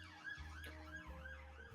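A person's voice imitates a wailing emergency siren, rising and falling in repeated sweeps over a steady low engine-like drone, close and clear with no other talk.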